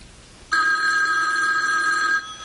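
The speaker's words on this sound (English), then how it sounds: "is that the phone?" A household telephone bell rings in one continuous burst of about two seconds, loud and close with a bright metallic tone, starting and stopping abruptly in a quiet room.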